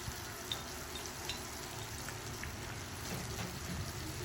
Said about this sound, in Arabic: ننزل بقطع الطماطم المتقطعه